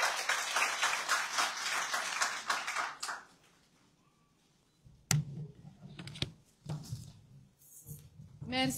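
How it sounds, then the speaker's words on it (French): Audience at a conference on accounting studies applauding after a speech, dense steady clapping for about three seconds then fading, followed by a pause and a few scattered thumps and voices. "On accompagne le président avec des applaudissements"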